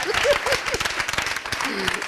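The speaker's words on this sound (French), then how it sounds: "On va l'applaudir, s'il vous plaît." A television studio audience on a talk show claps briefly, a short burst of scattered hand claps mixed with voices talking over it.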